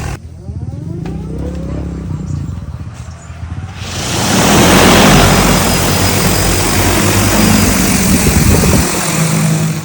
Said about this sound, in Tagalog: ilalabas na natin yung alaga kong helicopter at susubukan nating paliparin